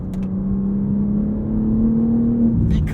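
A BMW M3 CS sedan pulling hard out of a curve, its engine a steady, loud, sustained drone that rises slightly in pitch as it accelerates, heard from inside the car with no talking.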